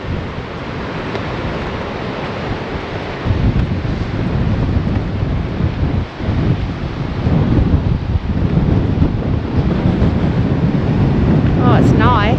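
Steady wind rushing and buffeting against the microphone at a coastal clifftop camping spot in Western Australia, loud and continuous throughout, with a brief voice near the end.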